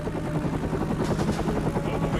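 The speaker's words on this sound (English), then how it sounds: "The helicopter raced 20 yards off the ground to avoid enemy radar." A military helicopter flying low, about twenty yards off the ground over flat terrain, heard as a steady, loud rotor and engine drone with rhythmic blade thumping throughout.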